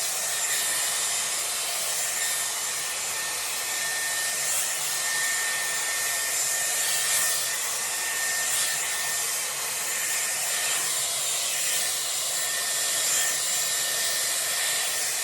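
A Dyson Airwrap blowing steady hot air while a round brush works through hair, a constant close whoosh with faint brushing and rubbing underneath, holding even for the whole stretch with no talk.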